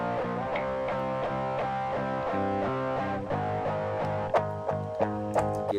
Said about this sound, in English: Gives it a very distinct distortion sound.